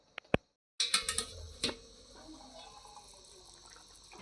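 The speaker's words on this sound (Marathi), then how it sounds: "हे गरम पाणी आपण चिकनमध्ये टाकणार आहोत" Hot water splashes and pours into chicken simmering for a Malvani-style chicken rassa, beginning with a loud gush after a couple of clicks and then fading to a soft trickle.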